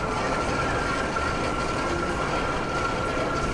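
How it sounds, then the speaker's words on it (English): The Great White wooden roller coaster at Morey's Piers runs an empty train with a steady, loud rumble and rattle of wheels on track, a continuous roar with no voices. "So here is the train running empty."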